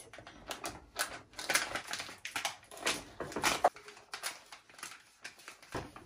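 Tape is pulled off a roll and pressed onto a baby wipes container in a nursery, heard as a run of close, sharp ripping and sticking bursts with brief pauses between them.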